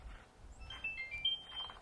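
A POCLINK PoC radio powering on, giving a few short, thin electronic beeps close by and faint against a quiet outdoor background at a trailhead.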